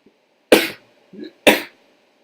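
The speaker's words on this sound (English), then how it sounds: "I'm about to sneeze." Two sharp, explosive bursts of a sneeze about a second apart, with a softer breathy sound between them; loud and close, no talking.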